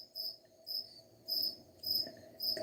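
Cricket chirping in a quiet setting, four short bursts of high trill spaced unevenly, fairly faint, no voices present.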